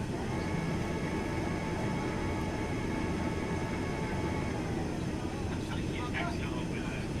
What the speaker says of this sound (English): We're going to go flaps 5. Listen to this.